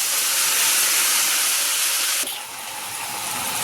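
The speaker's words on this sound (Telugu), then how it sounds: "ఇలా మెంతికూర వేపాలండి, బాగా వేగాలి." Fenugreek leaves fry in hot oil with a steady, loud, close sizzling hiss that softens abruptly partway through and then continues more quietly.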